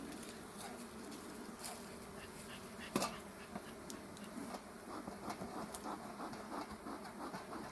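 A steady swarm of bees drones continuously around a damaged beehive still holding honey, the close, dense buzzing broken by occasional louder passes of individual insects near the listener.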